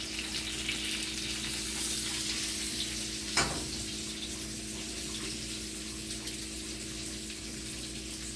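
Beef filet steaks frying in a pan give a steady, close sizzle throughout, with one brief sharper crackle partway through and no talking.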